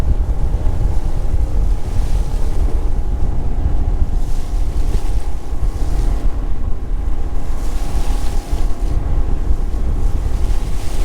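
A Bennington TriToon pontoon boat runs at speed through waves, its steady engine drone blending with loud, continuous water rush and wind buffeting the microphone throughout.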